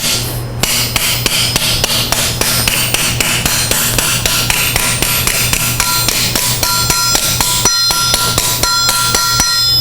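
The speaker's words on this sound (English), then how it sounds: "all the force from the hammer is getting transferred to the anvil itself" Hammer striking metal on an anvil in a metalworking shop, loud close blows falling in a steady even rhythm, each with a bright metallic ring that sustains between strikes.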